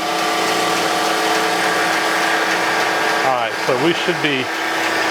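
A Landis 3S surface grinder runs with a loud, steady motor whine and hum while its grinding wheel is dressed; someone speaks briefly over the machine noise near the end.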